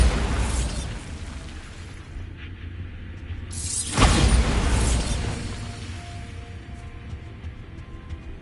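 The Bombarda spell in Hogwarts Legacy goes off as a single loud booming blast with a whooshing burst, sharp onset, then a rumbling decay into quieter ambience.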